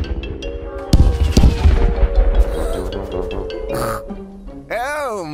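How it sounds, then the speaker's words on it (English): Big cartoon fireworks go off in a burst of loud, crackling bangs and booms, followed by a whistling rise, with music underneath and a voice near the end. "And now it's time for the big fireworks."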